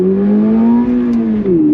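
A 2024 Toyota GR86 Performance Pack pulls hard under throttle from inside the cabin, its engine note rising steadily as loud, continuous droning revs with no talk.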